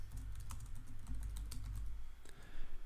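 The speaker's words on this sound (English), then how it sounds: "type in the page name," A page name is typed on a computer keyboard: a quick, close run of light key clicks with no talk.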